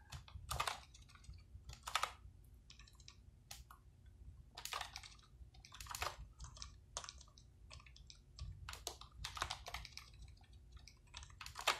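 Computer keyboard typing while entering data into an Excel spreadsheet, with quiet irregular bursts of clicking keystrokes over a low room hum, with no talking.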